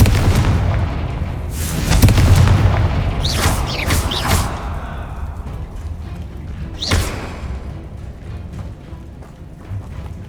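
Confringo fire spell explosions in the PS5 video game Hogwarts Legacy: heavy booming blasts with rumbling low end and sharp bursts, loud and close, fading into a lingering rumble with a later single crack.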